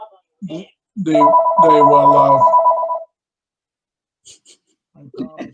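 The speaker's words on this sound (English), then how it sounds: "That darn phone." A telephone rings with a steady, harmonic electronic tone lasting about two seconds, sitting between brief spoken words, followed by silence and more talk.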